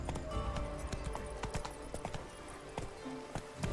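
Roach, the horse in The Witcher 3, gallops with rapid, rhythmic hoofbeats, close and steady throughout, with crisp clip-clop impacts repeating at a quick pace.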